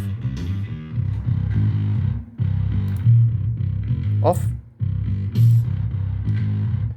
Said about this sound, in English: that's the stereo widener when it comes back on